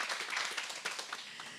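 An audience at an academic presentation on protecting places of worship claps steadily in a dense, even patter, fairly soft and continuous throughout.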